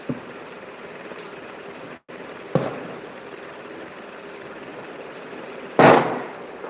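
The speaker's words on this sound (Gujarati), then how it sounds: "એટલા ફટાકડા ફૂટી રહ્યા છે" Two sharp Diwali firecracker bangs, one near the middle and a louder one near the end, each trailing off, over a steady background hum.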